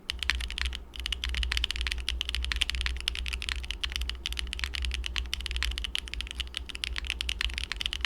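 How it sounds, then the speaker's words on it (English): Steady, brisk typing on a Void 65 keyboard with a carbon fiber plate, O-ring mount and no foam, fitted with HMX Milky White switches and GMK November Fog keycaps; close, dense clacking keystrokes continue with no pauses and no talk. "Now we have the Void 65 on a carbon fiber plate, O-ring mounted with no foam, HMX Milky White switches with GMK November Fog"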